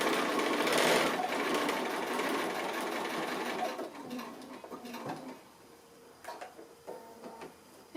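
A sewing machine stitches a small quilted ornament made from 2 1/2 inch squares, running in fast, close rattling bursts that slow, pause and stop as the work pivots, with brief clicks between runs.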